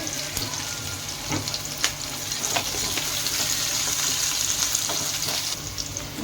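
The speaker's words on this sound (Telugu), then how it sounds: "అవి ఫ్రై అయిన తర్వాత ఉల్లిపాయ పచ్చిమిరపకాయలు వేసుకోవాలి." Onions and green chilies sizzle steadily in hot oil with whole garam masala for keema dum biryani, a close, continuous frying hiss broken by occasional crackles and stirring clicks.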